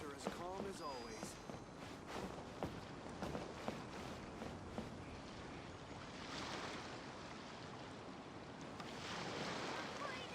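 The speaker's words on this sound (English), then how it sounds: "The waves are as calm as always." Calm ocean waves wash gently in the video game Genshin Impact, a soft continuous surf with light wind, under a voice speaking throughout the first half.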